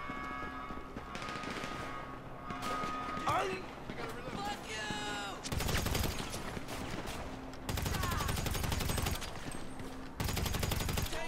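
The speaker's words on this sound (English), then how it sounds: "Being shot from behind and forward." Gunfire in a Grand Theft Auto street-racing game on PS4: rapid bursts of automatic fire and single shots crackle loudly over game background noise, with a voice speaking intermittently between the volleys.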